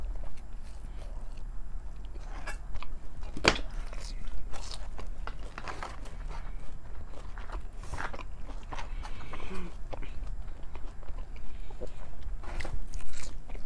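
Someone eating fries with ranch and ketchup, close and loud crunchy bites and wet chewing in an irregular rhythm that continues for the whole stretch over steady background noise, no talking.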